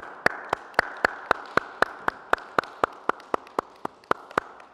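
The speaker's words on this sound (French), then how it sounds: "Ah, on peut vous applaudir." Hands clap in a home sport session, a steady run of about twenty sharp, evenly spaced claps, close and fairly quiet, with no talk over them.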